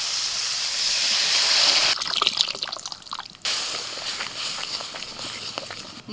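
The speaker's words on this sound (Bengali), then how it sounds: "এবার এই সিদ্ধ করা ডালটা দিয়ে দিচ্ছি মূলের সঙ্গে" Boiled mung dal is poured into a pan of frying radish, a loud, close liquid gush and splash that settles into sizzling and dripping, with no voices.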